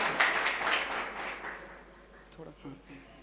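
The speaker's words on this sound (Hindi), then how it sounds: "स्वागत करते हैं उनका तालियों से" An audience claps to welcome a prize winner at a Vedic mantra pronunciation competition: a dense burst of applause for about a second and a half that fades as a voice comes in.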